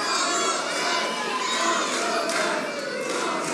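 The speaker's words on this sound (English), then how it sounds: "Crowd is chanting, awesome match." Wrestling crowd at an independent IHW match chanting together, a dense, loud, steady wall of many voices with cheering and shouting throughout.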